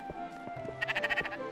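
Short game-style sheep bleats from Spiritfarer, a quick burst of pulsed bleating near the end following a few softer calls over quiet background music.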